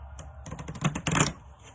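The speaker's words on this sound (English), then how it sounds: "I'm gonna shuffle one more time, and then I'm gonna pull." A deck of oracle cards is shuffled by hand, giving quick rapid riffling and flicking clicks in short bursts, close up and fairly soft.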